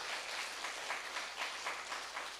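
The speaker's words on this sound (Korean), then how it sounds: "박수 한번 쳐줘봐요" A church congregation claps together at a worship service, a steady wash of applause that holds at an even level for a couple of seconds, with nobody speaking over it.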